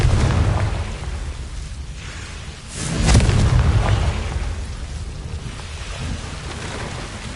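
A Confringo blasting spell explodes in Hogwarts Legacy, giving a loud, rumbling boom that swells near the three-second mark and decays slowly, layered over a steady low background roar.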